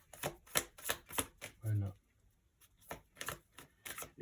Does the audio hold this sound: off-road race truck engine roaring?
no